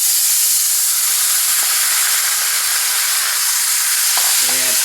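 Tomato basil sauce hits a hot pan with a loud, steady broadband sizzle that hisses continuously, close up, with a few faint scraping taps near the end.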